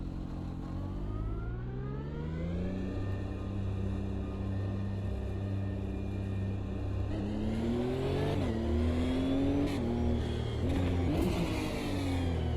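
A race car accelerates out of the pit exit onto the circuit, its engine note climbing steadily through the revs, then dipping and rising again at a gear change, loud and continuous with no talk.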